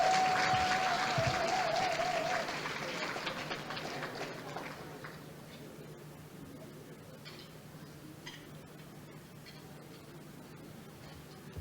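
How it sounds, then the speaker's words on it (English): Audience applause at an anniversary gala and awards ceremony, a dense wash of clapping that starts loud and gradually thins and fades over several seconds, leaving a low room hum with scattered claps. "Another round of applause for Mr. George"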